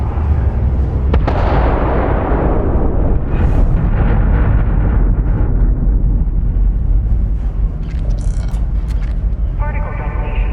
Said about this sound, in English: Particle detonation concluded.